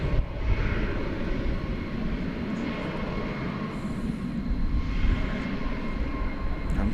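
Jet engines of an American Boeing 737 Max 8 lining up on Runway 18 Left at DFW Airport, a steady loud low roar with a broad rumbling hum heard from a distance, continuous and unbroken.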